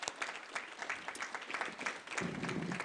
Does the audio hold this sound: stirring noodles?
no